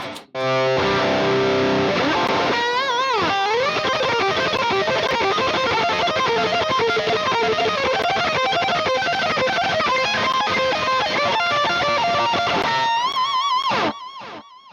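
Heavily distorted electric guitar through a Plexi amp emulation plays a loud, crunchy riff with sliding notes and sustained chords, continuous for about thirteen seconds before cutting off.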